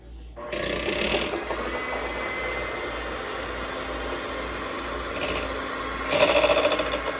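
Electric hand mixer beating chocolate pound cake batter in a bowl, a steady loud motor whir with grinding scrape running continuously after a short start, swelling briefly near the end.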